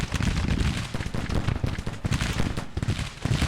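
Artillery barrage from massed guns in the American Civil War strategy game Grand Tactician, a dense, continuous rumble of overlapping cannon booms and crackling fire that stays loud throughout with no pauses.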